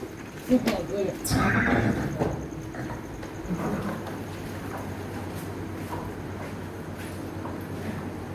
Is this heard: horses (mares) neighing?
yes